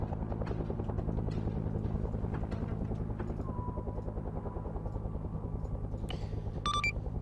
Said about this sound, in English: So they hear the choppers.